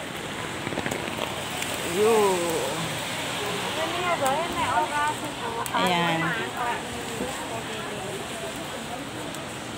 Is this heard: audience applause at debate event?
no